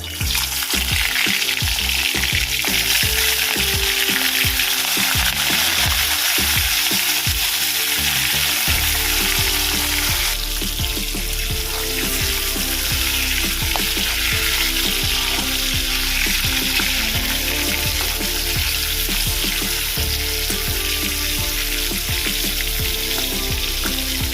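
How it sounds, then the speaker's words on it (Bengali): Prawns fry lightly in hot oil in a wok, giving a loud, continuous, dense sizzle that fills the whole stretch, with a slight shift in texture partway through and no talk. "আমি এবার চিংড়ি মাছগুলো একদম হালকা করে ভেজে নেবো"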